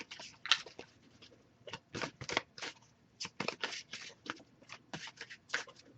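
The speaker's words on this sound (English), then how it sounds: "I'll give it a few more shuffles." Cards shuffled close up for a tarot reading give soft, quick riffling and snapping bursts in an irregular rhythm, quiet and alone.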